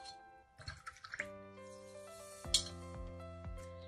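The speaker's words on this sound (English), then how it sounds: "Give your brush a rinse." Paintbrush swished and tapped in a water pot while painting a colour wheel, with soft splashes and light clinks against the container, quiet and close, over a faint background tone.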